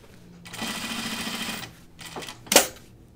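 A sewing machine runs a short burst of stitching on denim for Ginger jeans, then pauses briefly before a sharp click near the end; close and fairly loud, with no talk.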